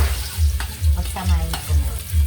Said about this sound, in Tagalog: lalagay ko na yung sibuyas, bawang